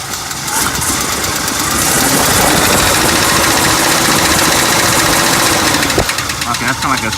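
A 1939 Pontiac Eight straight-eight engine running with a sharp metallic tapping and a misfire, heard close up as a dense, rough clatter that swells when revved, with someone talking over it.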